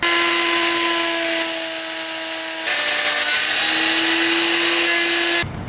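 A router fitted with a dovetail bit cuts wood for a wooden cheeseboard: a loud, steady high-pitched motor whine that shifts in pitch partway through as the cut bears on the bit, then drops off abruptly at the end.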